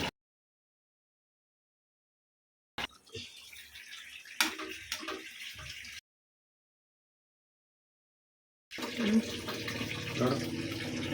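Water runs into a pot for chicken biryani in two bursts of steady tap flow, separated by silence, close and moderately loud.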